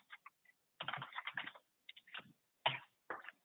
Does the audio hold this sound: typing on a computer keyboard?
yes